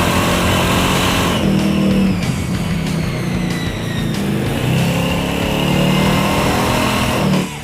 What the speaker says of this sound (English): You sounded almost like a downshift.